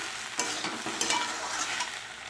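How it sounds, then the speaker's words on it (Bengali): Mourala fish curry sizzles in a pan as it is stirred, with a few scraping strokes of a spoon over a continuous hiss, close and fairly loud. "ঢাকনা খুলে আবার একবার নেড়ে দেবো"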